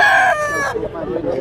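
A Boston Roundhead gamefowl rooster gives one loud, close crow, bright and strained, ending in a falling, rougher tail with no talking over it.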